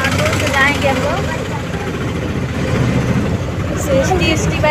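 Auto rickshaw engine idling at a market, a low rumbling chug beneath steady street noise, with voices talking over it and a faint horn-like tone near the end.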